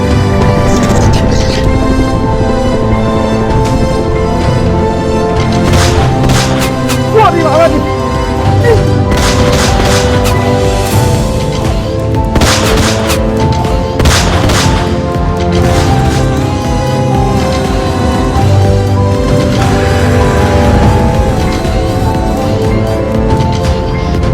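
Loud bursts of gunfire punctuate a dense, dramatic music bed in a Bangla action drama scene, with several sharp shots standing out across the stretch.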